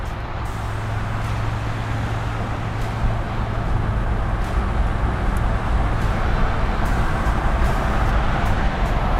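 A 1969 Chevelle SS engine runs steadily while cruising at speed near the red line, a constant loud drone of motor and road noise with no clear breaks.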